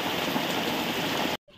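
Steady rain falls in a broad, even hiss outside a roadside shop stall, continuous and close for over a second before cutting off abruptly to near silence.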